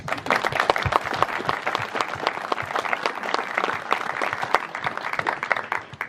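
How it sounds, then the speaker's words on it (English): Audience at a café opening applauding, a dense, steady patter of many hands clapping for several seconds, fairly close and without talk, easing off slightly at the end. "I do think that you deserve a round of applause"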